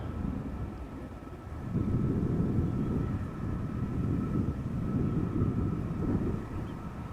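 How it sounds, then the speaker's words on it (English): A Delta A330 airliner taxis at Amsterdam Schiphol, a low, distant engine roar that swells and fades in broad waves, heard over steady outdoor wind noise near the water. "Now the Delta A330 is gradually taxiing towards us."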